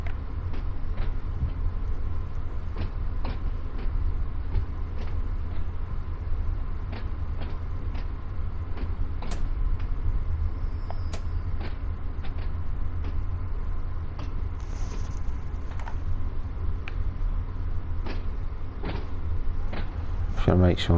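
A train braking in Train Sim World 2 on the Smallbrooke Shuttle, Isle of Wight, makes a constant low mechanical rumble with a steady hiss and scattered faint clicks and ticks throughout.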